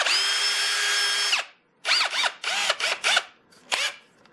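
A Ridgid brushless hammer drill drives leg bolts into a wooden stump in a garage: one long steady whine, then a string of short stop-start bursts, each winding up and down, loud and close with no talking.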